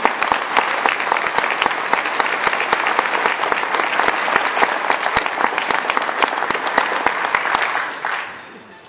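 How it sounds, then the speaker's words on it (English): An audience at a Martin Luther King event gives the speakers a loud, dense round of applause, with crisp claps cutting through before the clapping fades out quickly at the end. "Please, let's give them a round of applause"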